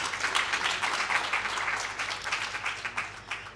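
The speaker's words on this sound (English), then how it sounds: "I want to start by asking all of us to clap for ourselves." An audience at a women's investment breakfast applauds together, a dense, steady wash of clapping from a sizable crowd indoors, sustained for several seconds with faint voices mixed in.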